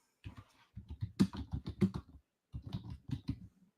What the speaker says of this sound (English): I'm going to type it in the chat.